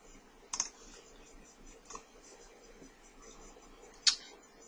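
Sparse computer keyboard taps and mouse clicks while entering an online order, a few isolated faint clicks with one sharper click near the end, over quiet room hiss.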